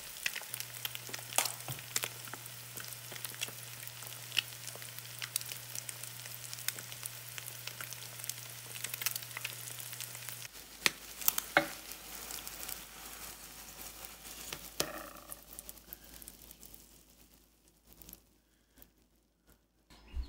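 Eggs frying sunny-side up in a pan give a soft, steady sizzle with faint crackles and pops, quiet and continuous, then fade toward near silence at the end.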